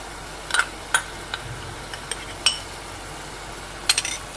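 A spoon stirring fish curry with tomato sauce in a pan gives a handful of sharp metallic clinks at irregular intervals over a quiet background.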